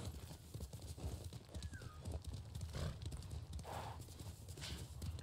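Horse hooves clip-clop at a steady walking rhythm in Ghost of Tsushima, quiet and close, with faint ambient game sound and a brief whinny-like tone.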